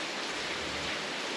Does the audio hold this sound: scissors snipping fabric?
no